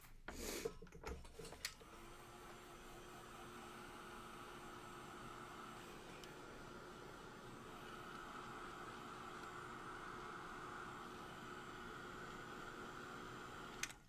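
A craft card made from layout scraps being dried with a heat tool, a steady, even blowing whoosh that runs close and unbroken for many seconds after a few brief handling knocks at the start.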